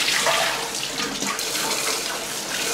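Water runs steadily from a kitchen tap, splashing as it is poured out and used to rinse a new stew pot, a continuous close hiss with no talk.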